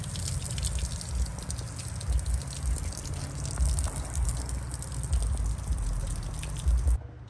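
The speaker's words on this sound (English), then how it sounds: "we're going to flush this motor one last time, check for leaks with just regular fresh water" Fresh water from a garden hose gushes through a Honda BF75D/BF90D outboard motor via flushing earmuffs, a steady close rush and splash with no talking.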